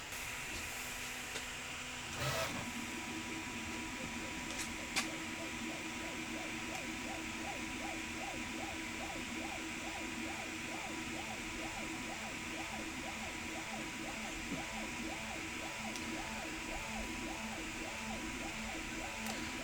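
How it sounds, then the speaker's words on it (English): A 3D printer printing blue PLA table-leg pads, its stepper motors whirring in a steady, rapid pulsing rhythm over a constant fan hiss, with a few clicks near the start. "Looks like the 3D printer is back in business again using the Prusa PLA rather than this Polymaker gold PLA"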